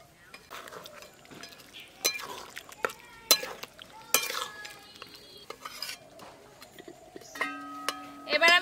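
Onion pieces are stirred into a pan of chicken kosha, with sharp spoon-on-metal clinks and scrapes over a soft sizzle, in irregular bursts at close range.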